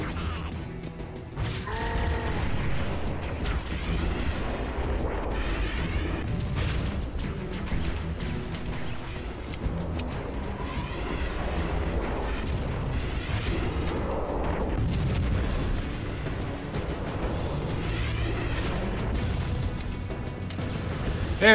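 Grenade explosions in Halo: Combat Evolved: dense, loud, continuous game combat with booming blasts, crashes and mechanical clatter layered over a constant rumbling soundtrack, with no clear pauses.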